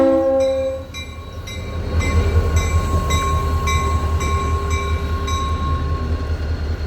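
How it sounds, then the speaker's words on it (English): A locomotive running light past a station in St. Augustine, Florida, heavy diesel rumble with a steady engine drone and rhythmic rail clicks as it rolls by fairly close, no talking. "it's a locomotive running light"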